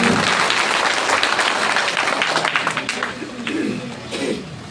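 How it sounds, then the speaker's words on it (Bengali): An audience at a political meeting at a BNP office in Bangladesh claps in a dense burst that thins and fades over several seconds, with a few bird calls in the background. "তার উদ্দেশ্যে একটি করতালি হোক।"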